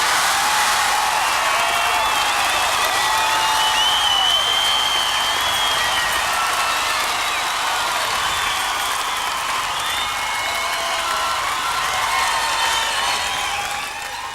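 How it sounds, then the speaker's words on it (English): Rugby league grand final crowd at the Newcastle Knights' 1997 celebrations applauds and cheers Mark Glanville, a dense, loud wash of sustained clapping and cheering that holds steady and then eases slightly at the end. "he needs the greatest cheer of all time for Mark Glanville"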